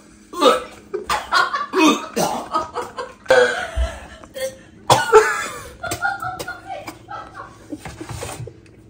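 Several bursts of coughing and spluttering while eating tortillas, mixed with chuckles and a little talk, close to the listener.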